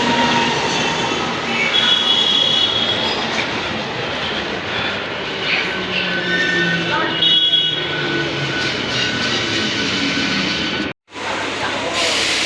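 A train pulls into Belanagar station with a steady rumbling roll and clattering wheels, some squeals and hiss overhead, then a brief cutout before the rumble resumes near the end.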